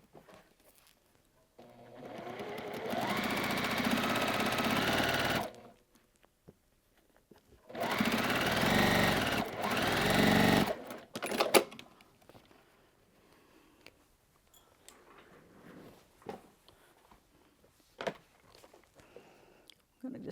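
A sewing machine chain-pieces quilt strips in two loud, steady stitching runs of a few seconds each, separated and followed by quiet handling noises and soft clicks.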